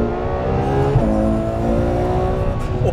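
Ferrari F12 Berlinetta V12 supercar accelerating at full throttle: a loud, continuous engine roar with steady rising harmonic tones, heard from inside the car and with no talk.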